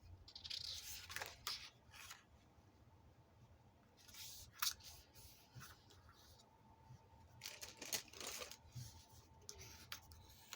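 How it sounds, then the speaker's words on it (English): Scissors snip through paper journaling cards to cut them in half, several quiet, crisp crunching cuts in close bursts with soft rustling between, no talking. "So now these all have to be cut in half."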